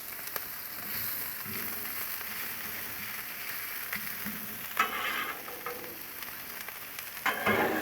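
Peppers and onions sizzle in bacon grease on a Blackstone griddle, giving a steady close crackle with louder bursts of scraping and stirring now and then.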